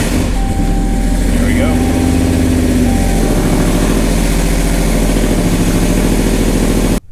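A Dodge Hellcat engine running on E85 fuel idles with a loud, steady, deep rumble close by, with a brief voice over it, before it cuts off abruptly.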